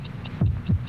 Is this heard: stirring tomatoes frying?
no